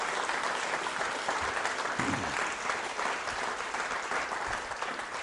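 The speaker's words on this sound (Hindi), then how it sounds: "तालियां बजाइए इनकी जानकारी के लिए, इनके लिए" Audience at a school quiz show applauding steadily, a dense wash of many hands clapping from a crowd, fairly even and sustained throughout.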